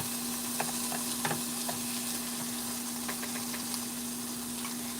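Onion frying in a pan while being stirred: a soft, even sizzle with scattered scraping clicks from the utensil, plus a faint steady background hum, no voices.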